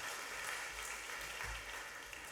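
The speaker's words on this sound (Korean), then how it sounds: "우리 큰 박수로 하나님께 인사드립니다." A church congregation claps at a Sunday worship service, a soft, steady wash of many hands heard from a distance that fades slightly toward the end, with no talk over it.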